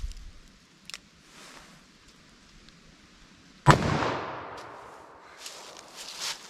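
A single loud, sharp gunshot from a Fort Scott TUI .44 Magnum round fired into ballistic gel outdoors, followed by a long decaying boom and echo, with faint ambient noise before it.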